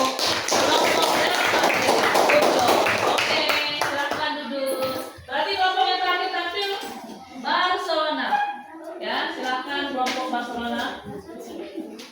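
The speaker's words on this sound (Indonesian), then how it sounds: "Oke, tepuk tangan untuk" A classroom of students claps for two student groups, a dense burst of applause lasting a few seconds before a teacher's voice and children's speech take over.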